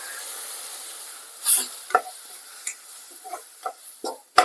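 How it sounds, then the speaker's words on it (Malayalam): Boiling water hits hot frying spices and turmeric in a pan, giving a soft sizzle under sharp clinks and scrapes of stirring, close and fairly quiet between the louder knocks. "നല്ല തിളച്ച വെള്ളമാണ് ഞാൻ ഒഴിക്കുന്നത്"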